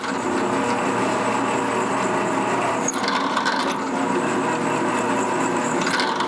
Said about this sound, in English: I'm just going to have to drill the heads off so we can split it